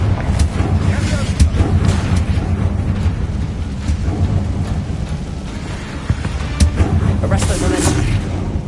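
Confringo blasting spells exploding in the Hogwarts Legacy video game, a series of loud booming blasts and rumbling impacts layered over dense combat noise.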